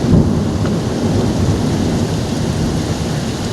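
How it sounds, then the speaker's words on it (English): Heavy rain and gusting wind roar loudly and continuously during a Tampa thunderstorm, heard from inside a house through a cracked-open door, with a dense, unbroken wash of rainfall. "The wind, holy shit."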